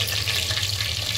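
Eggs fry in a pan with spices, giving a soft, continuous hiss that could almost pass for running water. A low steady hum sits underneath throughout.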